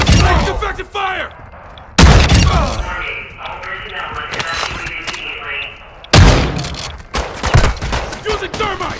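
Gunfire in the video game Call of Duty Modern Warfare II, with sharp loud shot bursts at the start, around two seconds and around six seconds, separated by quieter battlefield ambience and scattered distant shots, with voices heard between.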